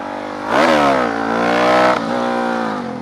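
A motorcycle engine sounds loud and close as it downshifts under braking. The pitch jumps up with a blip, drops, and then holds a steady drone before a second short dip.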